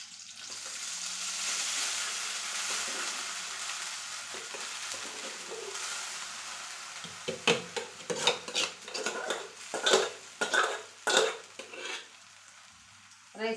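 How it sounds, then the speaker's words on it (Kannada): Cooked rice for curd rice is tipped into a pan of tempering with curry leaves after the gas is turned off, then stirred; a faint hiss gives way to a run of loud scraping spoon clatter against the pan. "ಇವಾಗ ನಾನು ರೈಸ್ನ ಇದಕ್ಕೆ ಹಾಕ್ತೇನೆ"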